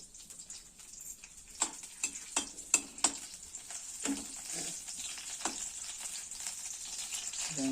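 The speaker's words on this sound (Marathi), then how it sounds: "तेल टाकलं आणि आता पहिली मिरची ना. मिरची टाकून ती थोडीशी तेलात" Green chili dropped into hot oil for a vegetable dish, giving a soft continuous sizzle with a few sharp crackles and pops near the start, moderately quiet and close, no voices.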